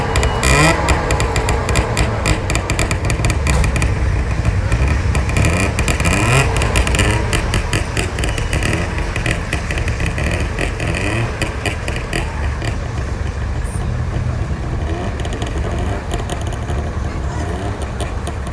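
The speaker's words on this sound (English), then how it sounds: "In a moment we will hear the sound of the engine on this Junior Deluxe." Engine of a 1957 DKW Junior Deluxe classic car, a rough, noisy running note that stays loud and steady close by, with brief revs early on and no talk over it.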